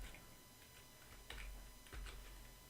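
A computer keyboard gives a few soft, scattered keystrokes as a short command is typed, faint and close against a steady low hum in a quiet room.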